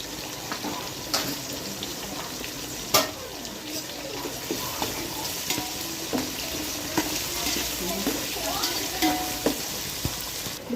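Ginger garlic paste fries and sizzles in a pan for mutton biryani, with a steady crackle broken by repeated scraping and knocking from stirring.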